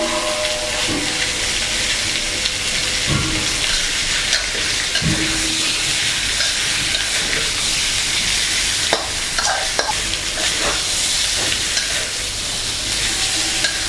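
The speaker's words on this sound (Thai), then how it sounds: "ผัดให้เนื้อปลาดุกเป็นสี หอมมากเลยครับ" Catfish pieces stir-fried in a pan for a spicy stir-fry, with a loud, steady sizzle and hiss throughout, broken by occasional scraping and tapping strokes of a spatula, no talking.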